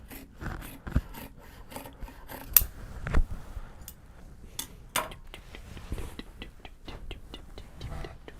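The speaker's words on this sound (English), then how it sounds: "Actually needs its base trimmed just a tick." Scissors trimming the base of a Japanese fabric tote bag, a long run of crisp, irregular snips and rasping cuts through cloth, close up and fairly quiet, with no voices.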